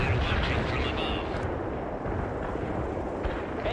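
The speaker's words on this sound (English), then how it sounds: "Incoming fire, get down." Incoming artillery fire in the World in Conflict video game, a dense, continuous rumble of blasts and explosions that fills the scene loudly from start to finish, with a faint voice underneath.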